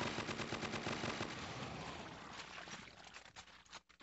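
Rapid automatic gunfire in Crossfire: Legends zombie wave mode, dense continuous bursts that thin out and fade toward the end.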